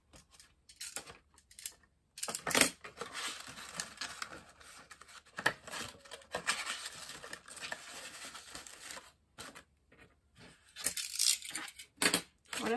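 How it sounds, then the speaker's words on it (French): Scissors trim the inside of a paper gift box at an angle, making faint crisp snips and papery rustling in irregular bursts with short quiet gaps. "je vais venir très légèrement retailler en biais l'intérieur de ma boîte"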